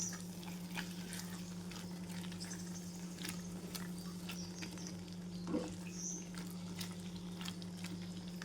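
Tindora (ivy gourd) curry is sautéed with masala in a pan, making a faint, steady sizzle under a constant low hum. Scattered soft scrapes of a spatula sound close by, with one slightly louder stir midway and no voices.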